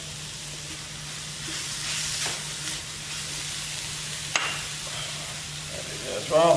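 Two cloves of crushed garlic frying in a pot for chicken tagine, a steady close sizzle that swells and eases with stirring, a sharp click partway through and a few brief words near the end.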